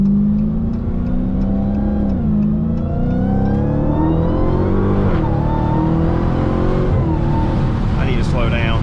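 Dodge Challenger Hellcat Redeye accelerating on the road, its engine note rising and falling through gear changes, loud and close from inside the car, with a person speaking over it.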